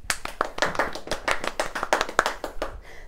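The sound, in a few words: round of applause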